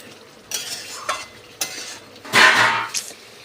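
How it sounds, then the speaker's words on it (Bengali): Chicken curry with tomato sauce is stirred and fried in a pan. A spoon scrapes and clatters against the metal in several separate loud strokes over a faint sizzle, with no one speaking. "আবারও টমেটো সস দেওয়ার পর বন্ধুরা আমি এটাকে খুব ভালো করে কষাবো"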